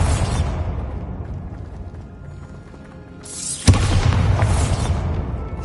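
A Bombarda explosion spell goes off in a video game: a sudden loud blast lands after a low rumbling lead-in, followed by a sustained roaring boom with debris-like crackle.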